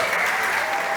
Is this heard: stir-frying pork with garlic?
no